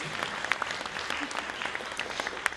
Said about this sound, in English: give a round of applause, paki paki mai, for our judges